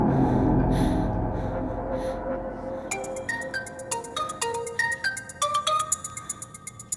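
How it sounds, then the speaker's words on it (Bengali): A phone rings with a bright, repeating electronic melody of quick chiming notes that starts partway through, after a heavy low rumble fades, and keeps cycling clearly until the end. "ফোনটা তোলো।"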